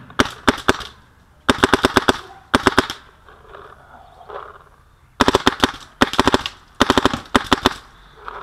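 Sharp, loud shots from a Planet Eclipse Axe paintball marker fitted with a Lurker poppet, firing Nelson Hemorrhage paint through a 683 Lapco back and disruptive front tip, in quick clustered volleys of three to five with short quiet gaps between.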